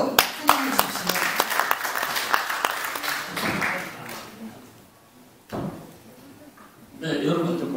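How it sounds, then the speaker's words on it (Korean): An audience at a Korean gathering claps to welcome a guest speaker, with crisp separate claps at first that thin out and fade, followed by a voice speaking near the mic. "큰 박수로 환영해 주십시오."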